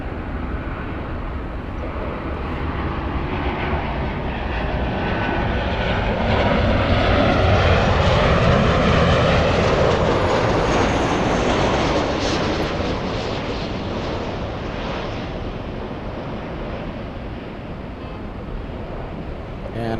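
Embraer E175 regional jets at Los Angeles International Airport, a loud continuous engine roar and rush that swells to a peak midway and then eases slowly, heard without talk.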